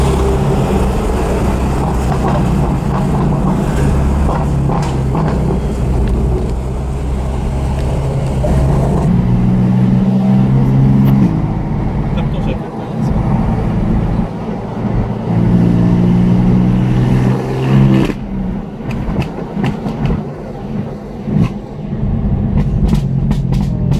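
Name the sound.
convoy of twenty cars driving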